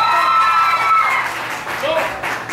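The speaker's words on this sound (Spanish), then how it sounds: "Aplausos para mi amigo." Steady crowd clapping at an amateur singing awards event, heard at close range with a voice speaking over the first part.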